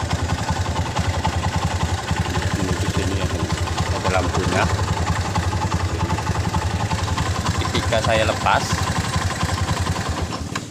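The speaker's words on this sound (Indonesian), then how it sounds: "Motor ini udah hidup normal" Honda Mega Pro motorcycle engine running steadily at idle up close, a continuous low throbbing with some mechanical clatter, while someone talks over it throughout.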